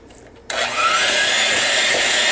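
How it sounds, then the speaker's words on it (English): An electric hand mixer blending a chocolate pecan mixture switches on after a brief pause and runs as a loud, steady whir close by, holding an even pitch until the end with no talk. "today I am going to blend it with a mixer"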